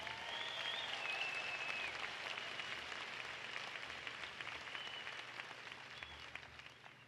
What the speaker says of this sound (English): I think this deserves another round of applause